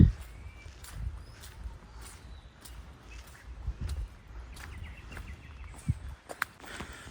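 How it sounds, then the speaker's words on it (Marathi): Faint, scattered bird chirps in a quiet forest on the Panhala to Pawankhind trek, with soft crunching footsteps and occasional rustles close by. "फक्त पक्ष्यांचा आवाज होतोय"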